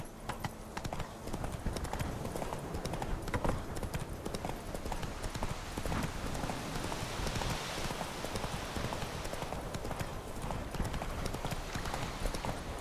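Roach the horse trotting in the video game Witcher 3, a steady run of rapid clip-clop hoofbeats that goes on throughout at moderate loudness, with faint talk underneath.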